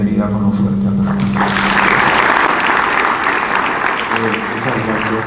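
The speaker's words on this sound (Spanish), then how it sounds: "queremos darle la bienvenida con un fuerte aplauso" Audience at a colloquium on the Nostra Aetate conciliar declarations gives a loud welcoming round of applause for a panelist, dense clapping rising after a moment of speech and fading as talk resumes.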